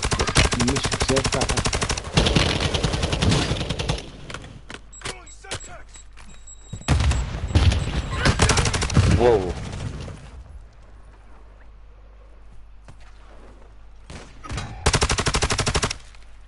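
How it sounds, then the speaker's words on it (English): Gunfire rattles in a PS4 shooter game, with loud bursts of automatic fire and single shots coming in clusters and separated by quieter gaps where players talk. "Shooting on my right."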